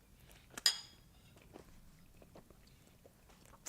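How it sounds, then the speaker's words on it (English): Someone chews food eaten from a bowl with a fork, giving a sharp crunchy bite near the start and then soft, scattered mouth and utensil sounds, quiet and close. "To cover up the sound of my chewing."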